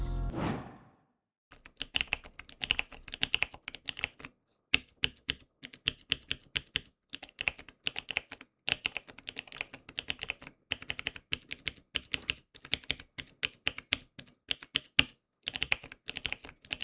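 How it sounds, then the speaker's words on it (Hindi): Cheap mechanical keyboard with clicky switches, typed in rapid irregular bursts of sharp close clicks separated by short pauses, quiet overall and with no talking. "इसकी नॉइज़ काफ़ी क्लिकी और सेटिस्फाइंग सी है।"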